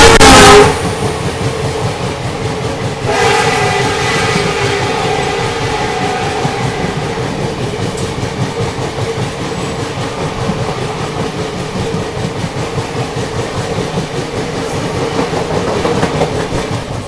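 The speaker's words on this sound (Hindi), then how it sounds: "अभी देखो क्रॉसिंग होने वाली है अपनी रंगिया गुवाहाटी एक्सप्रेस के साथ।" Rangiya-Guwahati Express passing at a crossing on an Indian railway line, a loud close rumble with steady clickety-clack of wheels over rail joints that runs the whole time, and a horn blast near the start.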